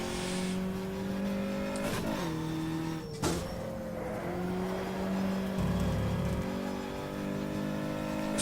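Racing car engine in the rFactor racing video game, a steady, loud drone that rises and falls in pitch through a corner, with brief shifts and dips, alone without talk.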